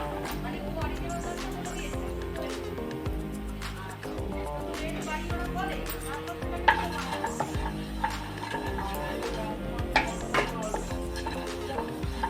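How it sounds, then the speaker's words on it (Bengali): Cumin seeds frying in oil with cloves and a cardamom pod in a pan, a steady sizzle mixed with the scrape and clink of a spoon stirring against the metal throughout. "জিরাটা ভাজা হয়ে গেছে"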